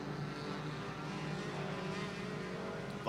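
Hornet class race cars lapping Skagit Speedway, a steady blended engine drone from the pack at a distance, holding level throughout with no talk over it.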